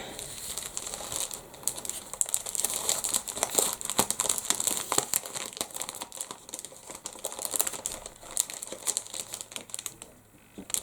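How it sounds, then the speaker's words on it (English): Thin copper leaf foil sheets are handled and peeled apart, giving close, busy crinkling and light papery rustles and ticks throughout, with no voices. "So what we're going to do is get the copper foil out ready."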